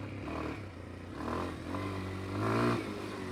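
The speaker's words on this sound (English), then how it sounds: "Second gear, having that grunt right there from this 4-stroke." A Kawasaki KLX230R four-stroke dirt bike engine revs in second gear with a gruff, droning note that rises and falls in pitch, building to a louder surge near the end, heard close by without speech.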